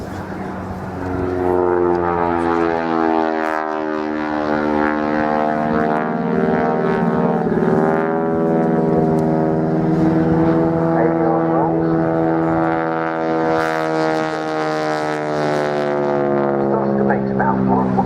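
An Avro 652A propeller aircraft flying at the RAF Cosford airshow, its engines giving a loud, sustained droning hum with a pulsing harmonic tone that swells and shifts pitch slightly as it passes overhead.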